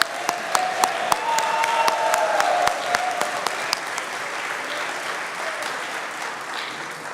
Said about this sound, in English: how about a round of applause for the organ music?